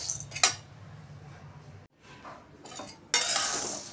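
Chana dal roasting in a pan over low heat for chakli bhajani flour, with metal spoon scrapes and clinks against the pan in short bursts, soft stirring rustle between them.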